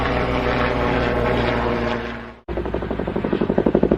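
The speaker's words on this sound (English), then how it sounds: "Agriculture helicopter." An agriculture helicopter droning loudly at first, then after a brief cut a rotor thumping in a quick, building rhythm close by.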